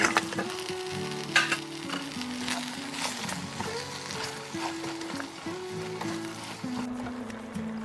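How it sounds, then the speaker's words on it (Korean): Onions and tomatoes stir-fried together in a pan for a tomato sauce give a steady, close sizzle that runs the whole time beneath soft background music. "양파가 투명해지면 토마토를 넣고 같이 볶아주세요."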